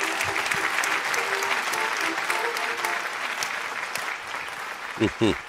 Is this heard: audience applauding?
yes